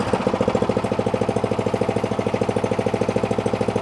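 A small Atco Royal B24 lawn mower engine idles steadily on its own, a loud, close, even chugging pulse that runs unbroken throughout.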